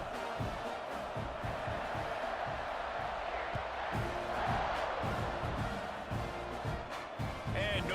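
A stadium crowd roars steadily in the College Football 26 video game, a dense continuous cheer with a commentator's voice over it.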